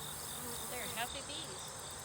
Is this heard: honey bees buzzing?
yes